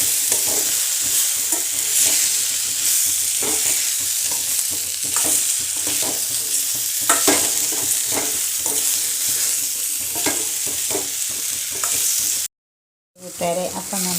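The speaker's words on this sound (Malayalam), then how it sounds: "ഉപ്പിട്ട് കൊടുത്ത് നല്ലോണം ഇളക്കിയിട്ട്" Salted eggplant masala is stirred in a pan with a steady, dense sizzle and repeated scraping of a spoon, close and loud. The sound stops briefly near the end, and there is no talk.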